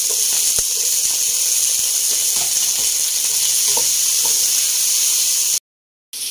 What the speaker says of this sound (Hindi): अभी वेजिटेबल को तकरीबन 3 मिनट तक फ्राई कर लेंगे।